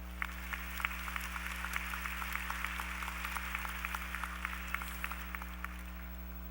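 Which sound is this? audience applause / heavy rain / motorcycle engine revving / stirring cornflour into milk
audience applause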